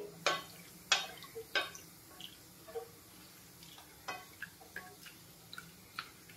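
Bharangi leaves soaking in water are stirred in a pot with a spoon or hand, giving sparse soft clicks and light watery knocks at irregular intervals, quiet and close.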